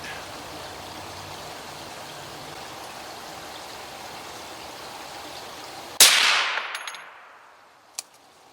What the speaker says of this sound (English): I'm shooting right now at 50 yards just to get this scoped in